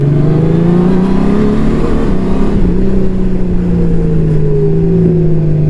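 A Honda Gold Wing Touring DCT motorcycle engine, a 2025 model, revs and pulls up through its gears nearby, a deep throaty rumble rising and falling in pitch as it accelerates.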